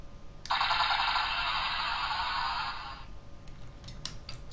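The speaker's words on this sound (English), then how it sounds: "That button there activates the lights and sounds for this gun when it's in closed mode." Electronic sound effect from a Transformers Cybertron Galaxy Force Optimus Prime toy gun in closed mode: a loud, steady buzzing tone of about two and a half seconds that cuts off, followed by a few faint clicks.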